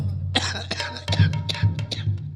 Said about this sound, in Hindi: बड़ी खांसी आती है।